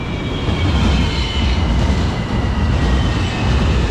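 LRT train on the Sentul Timur line in Malaysia, a loud steady rumble of wheels and carriage noise with faint high squealing tones running throughout, no talk.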